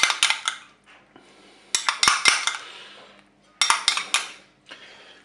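A utensil mixes crème fraîche and mustard in a dish for a salmon and leek gratin, giving sharp metallic clinks and scrapes in short bursts separated by brief pauses, close and clear.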